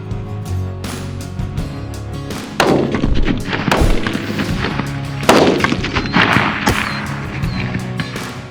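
Rifle shots at an outdoor shooting range, a few sharp loud reports with ringing tails spaced several seconds apart, heard alone without talk.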